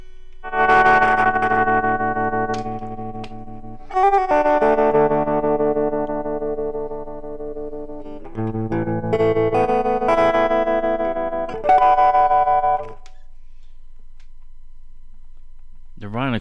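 Electric guitar played through a Deluxe Tremolo effect, a few sustained chords and short melodic phrases with shimmering pulsing harmonics, loud and close, each phrase separated by brief gaps, ending in silence with no speech.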